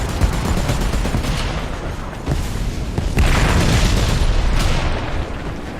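An artillery barrage in the tank game War Thunder brings a dense, rumbling wall of booms and gunfire, loud and continuous, with heavier impacts swelling midway and no talking over it.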